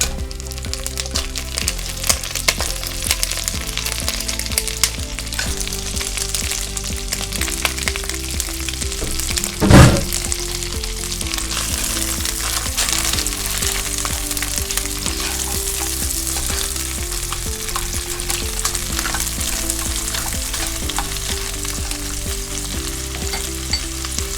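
Crab fries in a pan with garlic, a dense continuous sizzle and crackle with occasional stirring taps, one louder sharp clatter partway through, steady and close with no voices.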